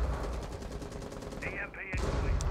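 Rapid automatic gunfire in Rainbow Six Siege during a Pro League PC match, a dense run of shots under a commentator's voice, with a sharper burst near the end.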